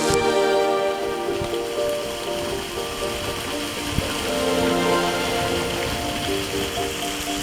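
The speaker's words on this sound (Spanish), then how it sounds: "Vamos a disfrutar del agua cayéndonos" Water from the Chorreras de Balastar waterfall pours down close by, a steady dense splashing hiss like heavy rain, continuous and even throughout.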